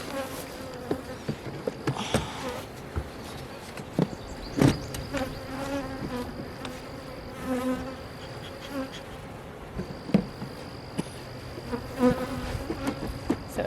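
Honeybees buzz steadily around an open hive during a spring inspection, a close, dense hum of many insects with individual bees zipping past, alongside occasional knocks and clicks from handling the hive frames; no one talks.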